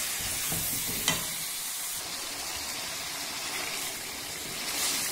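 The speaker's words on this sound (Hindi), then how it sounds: "फ्लेम को हमने बिल्कुल स्लो कर दिया है ताकि अच्छे से चिकन फ्राई हो जाए ऑयल में" Chicken fries in oil with spices over a low flame for korma, giving a soft, steady sizzle close by, broken by a short clatter of stirring and with no voices.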